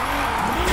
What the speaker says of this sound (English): And hopefully we can maybe keep the drift going.